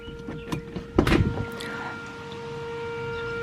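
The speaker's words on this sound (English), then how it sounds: "That noise is our storm siren." A steady storm warning siren holds a single sustained tone in the distance, with a few knocks and rustles nearby at the start.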